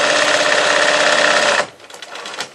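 A sewing machine runs steadily for about one and a half seconds, stitching a fabric market bag with a loud, rapid mechanical whir, then stops abruptly, leaving faint handling rustles.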